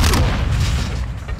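Grenade explosion in Modern Warfare 2, a loud, close, booming blast whose low rumble fills the whole brief moment.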